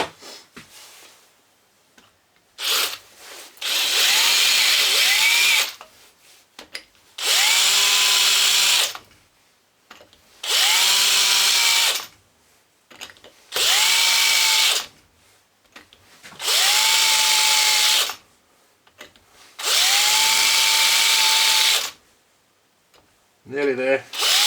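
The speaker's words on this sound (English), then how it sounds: "So we've got to drill this bit out next." A power drill bores out part of a Lucas CA45 starter motor from a Ford Sabre six-cylinder boat engine, whining in six or seven loud bursts of a few seconds each, separated by pauses with quiet talk.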